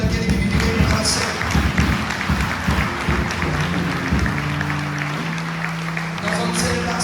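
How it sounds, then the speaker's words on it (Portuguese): A church congregation applauds during a Communion service: dense, sustained clapping fills the space throughout, with voices and some musical tones mixed underneath. "Aplauda bem forte o nome daquele que vive em para sempre."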